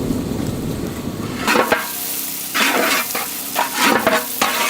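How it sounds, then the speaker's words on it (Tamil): Chopped onions hit hot cold-pressed sesame oil for a country chicken butter chicken curry. A low crackle turns into loud, close sizzling bursts with scraping stirs, surging and easing several times. "நறுக்கின வெங்காயம்,"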